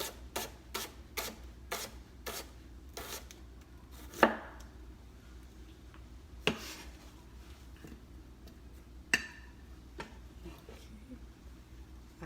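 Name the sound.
slicing onions with a sharp knife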